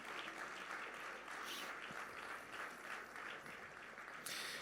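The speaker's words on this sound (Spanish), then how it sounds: "Fuerte ese aplauso de alabanza al Señor." Church congregation applauding in praise at a worship service, a steady, dense wash of clapping from many hands throughout, fairly distant and even in level.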